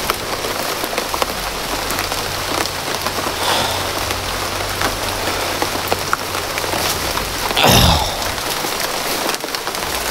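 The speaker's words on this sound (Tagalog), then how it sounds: "Umulan pa," Steady rain falls outdoors, a loud, dense, continuous patter on surfaces with one brief, louder swooshing burst near the end and no speech.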